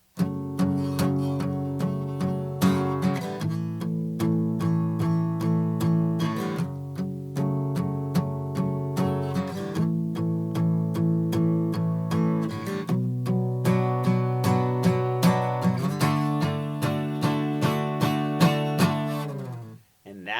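Acoustic guitar strumming a chord progression, steady rhythmic strokes with chord changes every few seconds, played alone and close, ending with a let-ring fade.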